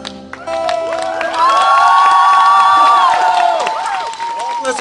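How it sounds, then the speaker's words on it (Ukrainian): A crowd at a local talent show in Hrebinka cheers and shouts after a singer's performance, with raised voices and whoops over scattered clapping, loud and sustained throughout. "Оплески, оплески, оплески!"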